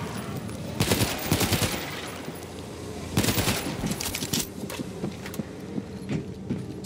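Automated turret fire in World War Z's Moscow episode: two loud, rapid machine-gun bursts, each about a second long, separated by quieter gaps with scattered lighter shots.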